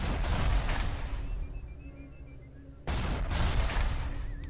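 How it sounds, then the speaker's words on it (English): Turret firing grenades or missiles in the BioShock game: loud, dense bursts of gunfire and explosions, with a dip into quieter rumble and then a sudden resumed barrage, with no voice. "Oh, that's a turret shooting grenades at me"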